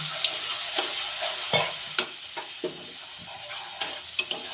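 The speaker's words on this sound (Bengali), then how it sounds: "একটু জল দিয়ে মশলাটা কষিয়ে নেব" Ground cumin, coriander and red chilli masala fries with a splash of water in a pan for a papaya paneer dish, a constant close sizzle broken by repeated sharp spoon scrapes and taps against the pan, with no voices.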